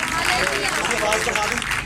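A church congregation applauds at a pastor's gospel sermon, a steady, dense clatter of many hands running the whole moment with voices mixed in.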